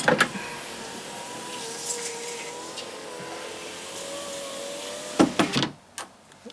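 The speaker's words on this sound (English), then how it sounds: "To be sure that the motor really works. The window must go up." Electric power window motor raising the driver side window of a car, a steady whirring hum for about five seconds ending in a few clunks and taps.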